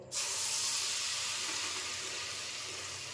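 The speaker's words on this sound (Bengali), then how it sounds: "তো ঘি গরম হয়ে গেছে, এবার আমি এই পুরো ডালের মিশ্রণটা দিয়ে দেবো।" Chana dal mixture hitting hot ghee in a pan gives a sudden loud sizzle that starts sharply, then holds as a steady bright hiss, close and alone.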